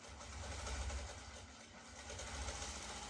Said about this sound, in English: So we're going to go ahead and take this piece and sew it on.